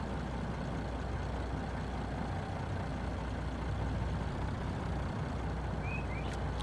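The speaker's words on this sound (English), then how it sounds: "And I'm going to back this truck up a little bit." A truck backs up slowly at a truck stop in a truck parking simulator game, its low engine drone steady and unbroken, with a couple of faint high chirps near the end.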